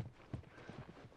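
Horse hooves clip-clopping in The Last of Us video game, a few soft, uneven low thuds at a moderate distance against a quiet game background.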